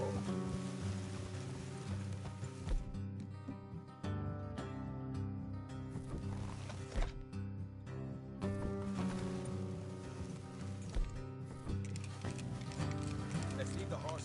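Horse hooves clip-clop steadily on a trail in the Red Dead Redemption 2 western video game, a rhythmic mid-distance gait under a continuous musical score and occasional ambient sound.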